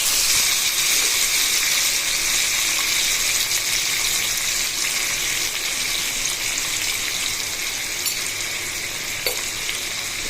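Onions sautéing with salt in a pan for Nellore fish curry, a steady even sizzle and crackle that holds throughout, close and fairly loud, with no talking.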